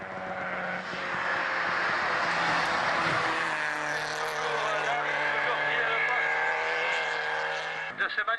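Rally car launching up a hill climb course, its engine roaring loud and close with rising revs for several seconds, while a commentator talks over it throughout.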